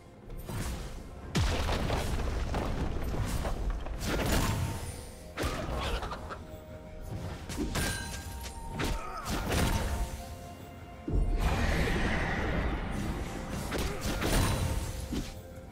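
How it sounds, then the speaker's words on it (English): Loud, dense explosive booms and crashes from a turret being destroyed in League of Legends, layered with continuous battle effects in a top-lane fight, with heavy impacts recurring throughout. "Red team's turret has been destroyed."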